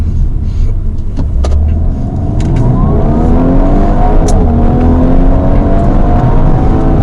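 A 2019 Audi A5 Sportback accelerates hard from inside the cabin, its engine note climbing steadily through a gear with rising tonal harmonics over loud road and wind rumble, and no one speaks.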